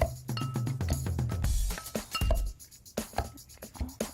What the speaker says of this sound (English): The sugar and the cherries, everything good and mashed.